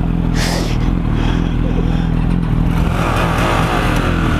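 A motorcycle engine at Olivers Mount in Scarborough, revving steadily and loud at close range throughout, with a rough mechanical clatter and no talking.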